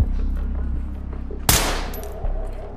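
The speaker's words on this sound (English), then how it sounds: "Warning shot!" A single loud warning gunshot cracks out in Ready or Not, a sharp close report with a short ringing tail, preceded by a low rhythmic mechanical hum and followed by a softer thud.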